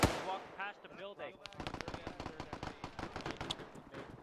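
Rapid gunfire bursts in the ArmA 3 military shooter, a string of sharp shots rattling over about three seconds, with people talking at the start.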